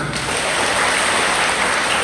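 Audience applause at an Islamic religious lecture on health and spirituality, a dense steady patter of many hands clapping together, loud and continuous throughout with no voices over it.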